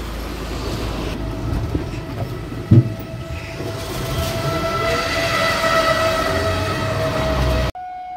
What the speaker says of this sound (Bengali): ট্রেনে উঠলাম এই যে গোপালনগর থেকে।